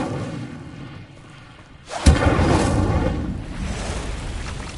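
Incendio fire spell cast in Hogwarts Legacy, a sudden booming burst with a whooshing, rumbling flare that hangs on after the hit, loud and close following a quieter lead-in.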